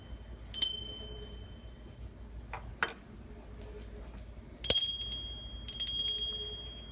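Small bells are rung over a spell bag, with one bright ring, a short rattle, then a fuller burst of chiming and a second round of rings that linger and fade in a quiet room.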